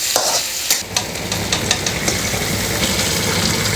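Hotdogs fry in gear oil in a pan while being stirred, giving a continuous close sizzle punctuated by sharp scraping clicks of the utensil against the pan, with a low rumble underneath and no talking.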